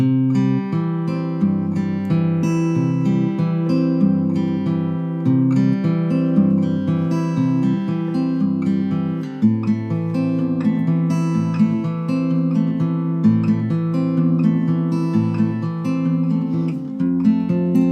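Steady Travis-picked fingerstyle guitar, alternating bass notes under treble notes in an even rolling pattern, moving through a chord progression, clear and close.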